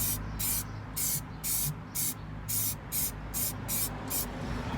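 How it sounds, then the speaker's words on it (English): Stone chip shield paint is sprayed from an aerosol onto bare metal on the inner wing and sill of a Mercedes SLK R170, in repeated short hissing bursts with brief gaps, close and steady over a constant background hiss. "So now I'm into the final part where we're spraying areas."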